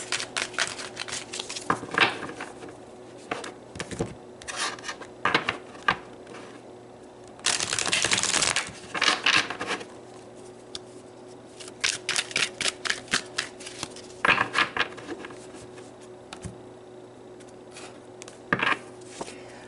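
Tarot cards shuffled by hand in several bouts, rapid riffling clicks and a longer dense flutter, separated by quiet pauses.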